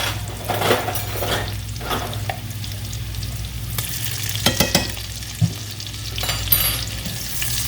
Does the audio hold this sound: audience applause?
no